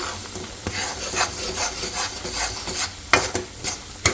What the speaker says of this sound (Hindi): साथ में डालेंगे सिंघाड़े का आटा और राजगिरे का आटा, दोनों मिक्स करके मैं हलवा बनाऊंगी।